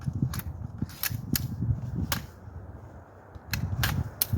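Sharp metallic clicks and clacks as a bolt is slid back into an AR-47 rifle upper, several separate snaps spaced irregularly over a low handling rustle.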